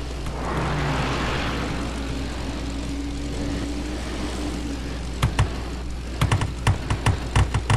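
A burning WW2 propeller plane engine in the video game DogFighter WW2 drones steadily and loudly, then sharp repeated bangs punch in during the last few seconds.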